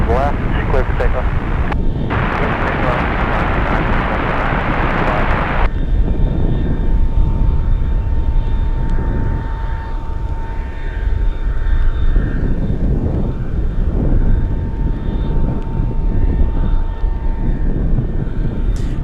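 A heavy cargo aircraft takes off from runway 25 left at Anchorage airport in gusty wind, a loud sustained engine roar that swells and then settles into a steady rumble with a thin tonal whine, while a voice talks over it.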